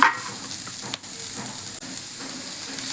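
Peanuts roast in a little oil in a pan during home cooking of a paneer dish. The sizzle and hiss are continuous, with a couple of brief stirring scrapes and knocks, and no voices.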